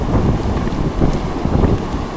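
Steady, rumbling wind buffets the microphone throughout, a continuous low roar with no voices.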